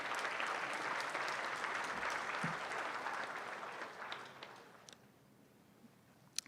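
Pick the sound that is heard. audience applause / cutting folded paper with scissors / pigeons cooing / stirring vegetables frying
audience applause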